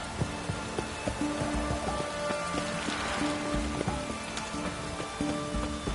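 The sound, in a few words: rain in a video game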